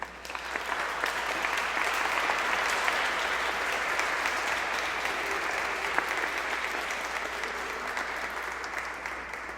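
Church congregation applauding the morning choir at a Sunday mass, sustained even clapping from a full room for the whole stretch, with a faint murmur underneath.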